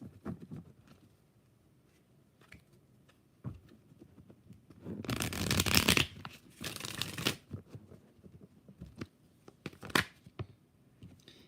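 Tarot cards are shuffled by hand, with quiet handling taps leading into two bursts of rapid riffling, close and crisp, followed by a few scattered card flicks.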